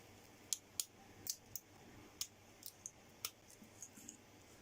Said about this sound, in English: trim the side wall off a bit like this.